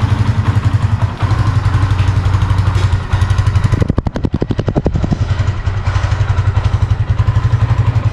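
A 2025 Kawasaki Barako 2 motorcycle engine runs close by, a loud, rapid, even thumping idle. Midway the firing turns rougher and more clattery for about a second before settling back into the steady beat.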